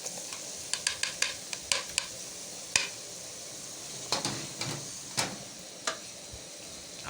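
Sliced tomato goes into a pot of stew, giving a soft sizzle under a run of sharp spoon clicks and taps against the pot as it is stirred, fairly quiet and close.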